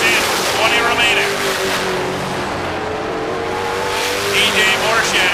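Race cars roar around a short oval track in Maine in a steady, loud, dense engine drone with passing whines, while a commentator talks over the noise.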